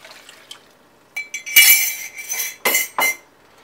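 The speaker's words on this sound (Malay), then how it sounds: "Kemudiannya kita tambahkan air." A glass of water poured into a pot of palm sugar for durian pengat: bright clinks of glass against metal and short splashing bursts, close and clear.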